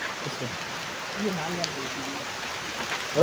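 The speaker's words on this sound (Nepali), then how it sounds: "पानी पर्यो अब चाहिँ आज भिडियो बनाउन मिल्दैन" Rain falls steadily as a soft, even hiss, with faint voices in the background.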